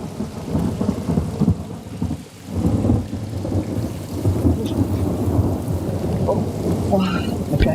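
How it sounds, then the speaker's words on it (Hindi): Heavy rain pours down steadily while deep rolls of thunder rumble through, loud and close, with a continuous wash of rainfall throughout and no voices. "मैकेनिक तो कहीं मिला नहीं और ये बारिश भी शुरू हो गई"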